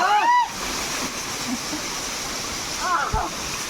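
Water pouring and splashing at Khodiyar waterfall in the Barda hills near Porbandar, a steady rushing wash heard close by; background voices and brief calls rise at the start and again near the end.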